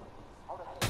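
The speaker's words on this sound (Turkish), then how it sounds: "ben C4'ümü patlatmaya çalışıyorum" A C4 explosive detonates in Ghost Recon Wildlands: a sudden loud, brief blast that hits abruptly at the very end after a moment of quiet, low background ambience.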